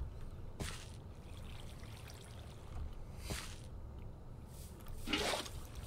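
Faint Minecraft water flowing and pouring in short sloshing bursts, three separate gushes rising over a low steady background, fairly distant and without speech.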